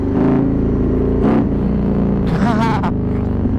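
Harley-Davidson Road Glide CVO with a 2032 cc, 124 ci Stage IV engine accelerating hard, a loud close rumbling roar rising in bursts, with someone speaking over it.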